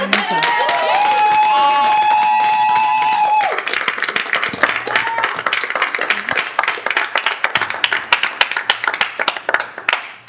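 Audience applause at a school Board of Education meeting: after a few seconds of voice and tonal sound, scattered clapping breaks out and continues, loose and uneven, thinning toward the close.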